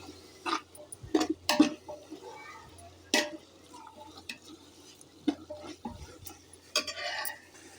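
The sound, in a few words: stirring tomatoes and soya chunks in a pan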